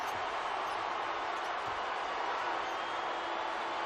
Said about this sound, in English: Here's a Louisville crowd in the background chanting Luke.